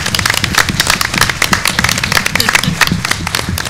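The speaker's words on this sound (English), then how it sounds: "let's give them a round of applause." Audience at a school district board meeting applauds students in a steady, dense wave of clapping that fills the room, loud and continuous throughout.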